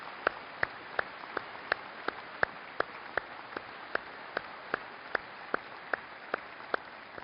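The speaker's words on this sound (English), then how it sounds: "Please join with me one more time in one round of applause" Sustained applause from a crowd at a fire service conference, with sharp claps standing out in a steady, even rhythm for several seconds.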